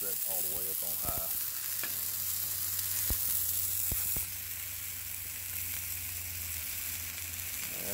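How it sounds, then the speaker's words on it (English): Sausage and potatoes fry on a Blackstone griddle turned up to high, a steady close sizzle that runs throughout with a few faint clicks, easing slightly partway through. "This side I'm cooking my potatoes on, I've got set all the way up on high."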